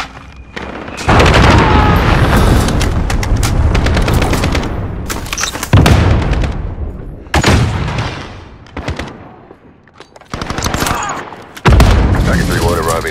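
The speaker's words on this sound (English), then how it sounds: "Enemy cruise missile incoming!" Heavy combat fire from Call of Duty Modern Warfare team deathmatch: loud bursts of machine-gun fire and booming blasts come in several long clusters separated by brief lulls, with cruise missile explosions among them.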